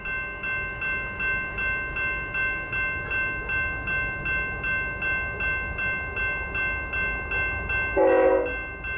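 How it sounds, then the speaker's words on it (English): An eastbound freight train hauled by Norfolk Southern locomotives rolls past with a steady rhythmic clatter of wagons over rail joints and a ringing tonal hum, then a short loud horn-like blast near the end, no talking. "a pair of Norfolk Southern locomotives in the"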